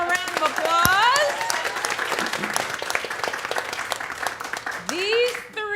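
Audience applause for three improv comedy players stepping forward at a showdown show, a steady wash of clapping across the whole stretch with a voice talking over it near the start and again near the end.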